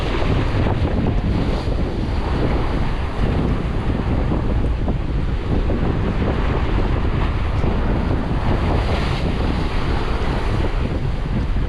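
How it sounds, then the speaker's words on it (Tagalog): Strong wind buffets the microphone outdoors, a loud, constant roar with rushing, surf-like texture lasting the whole stretch without a break, and no voices heard. "medyo malakas ang hangin ha"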